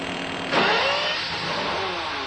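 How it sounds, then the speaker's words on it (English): Bugatti EB110 engine firing up for the first time and revving hard, a sudden loud rise about half a second in with rising harmonic tones, then settling to a steady near engine drone with no voices. "the engine came to life and screamed for the first time"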